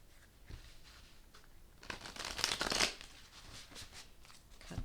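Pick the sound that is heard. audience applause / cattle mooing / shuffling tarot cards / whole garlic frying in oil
shuffling tarot cards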